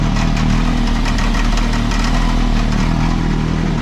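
Two side-by-side UTV engines idle together after a jump start, a loud, continuous, rumbling mid-pitched drone that holds steady throughout with no talking.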